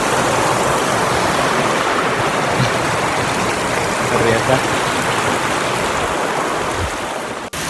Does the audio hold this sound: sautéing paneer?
no